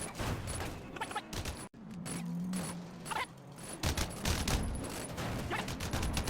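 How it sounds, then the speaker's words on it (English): Rapid bursts of gunfire in a Sleeping Dogs car chase, crackling continuously over engine and road noise with dense clattering shots throughout. "you're just trying to shoot these enemies while they're behind the car"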